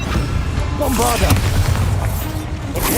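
Bombarda blasting spell exploding in Hogwarts Legacy, a booming blast with rumbling debris, heard close and loud over a mix of game sounds and brief speech.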